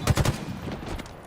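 Sniper rifle gunfire in a first-person shooter video game: a few sharp shots packed together right at the start, then a dull rumbling tail, with no talk.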